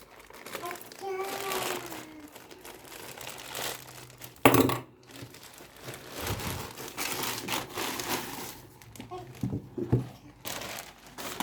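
Packaging from a PTT cargo parcel of books crinkles and tears open, bursts of crumpling and ripping up close with quiet pauses between, a voice murmuring faintly in the background.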